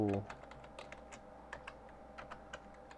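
Fairly quiet, rapid keystrokes tap out a short phrase on a computer keyboard in an irregular rhythm after a brief opening hum.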